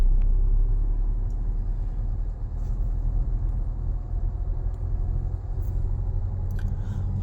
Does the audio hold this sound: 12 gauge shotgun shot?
no